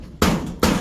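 Hammer blows on nails while a small wooden hut is built in a rice field; two sharp, loud strikes about 0.4 seconds apart, each ringing briefly before fading.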